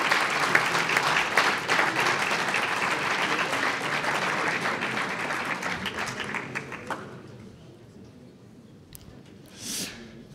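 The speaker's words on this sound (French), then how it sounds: "Je crois que nous allons pouvoir applaudir Pierre Moscovici, commissaire européen qui vient de nous rejoindre." A congress audience at a Radical Movement party gathering claps for Pierre Moscovici's arrival, dense applause for about seven seconds that thins into scattered claps and near-silence, with a brief murmur near the end.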